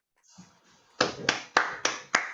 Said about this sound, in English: We can all give a round of applause.